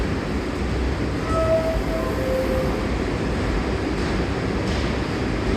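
A New York City subway train at Rector St station on the IRT line, a broad steady rumble and rush filling the platform, with faint brief squeals rising over the roar.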